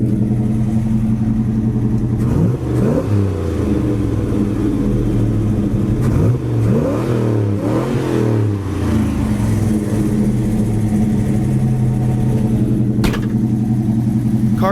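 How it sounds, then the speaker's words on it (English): A 1969 Chevelle Super Sport V8 on fast idle, a steady, close, rumbling idle with a couple of brief throttle blips that rise and settle back partway through. "Car sounds great. I need to adjust the idle a little bit. It's on fast idle."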